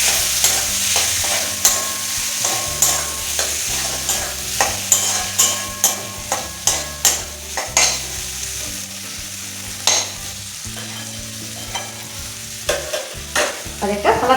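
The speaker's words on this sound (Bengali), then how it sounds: "এবার চিকেনের সাথে মশলাটা আবারও ভালোভাবে কষাবো।" Chicken with spices fries in a pan while being stirred, a loud continuous sizzle broken by rhythmic, repeated scraping strokes of a spatula, close and dense.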